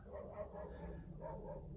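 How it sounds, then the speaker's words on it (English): Several dogs bark outdoors in a quick run of repeated yaps at moderate distance, sitting over a steady low background rumble. "there's some dogs barking too"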